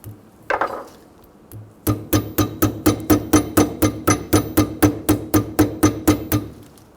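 Metal-on-metal tapping to seat a CV joint boot clamp on a 2000-2007 Ford Focus, a couple of early knocks and then a steady run of about twenty evenly spaced sharp taps, close and alone.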